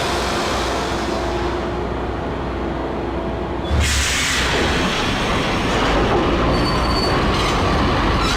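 A train rolls along loudly with a steady rumble in the video game Max Payne, then metal wheels screech and squeal sharply as it continues nearby.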